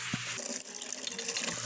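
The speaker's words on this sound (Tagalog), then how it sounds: "Tubig agas gikan puso." Water gushes steadily from a backyard pond pump hose into a bucket, a continuous splashing pour heard alone at close range.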